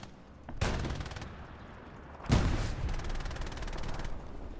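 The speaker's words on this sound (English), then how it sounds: "Bombardment of the area, sure." Heavy battlefield bombardment in the World War II shooter Hell Let Loose on the Omaha Beach map: two loud bursts of booming explosions and rattling fire, each rolling on for over a second before easing into background rumble.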